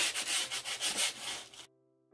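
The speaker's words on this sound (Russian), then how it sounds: "рекомендуется немножко пройти шкуркой, такой мелкой шкуркой" Fine sandpaper rubs back and forth over a canvas coated with watercolour primer, about eight quick rhythmic scratchy strokes close up, then the sanding stops abruptly and leaves near silence.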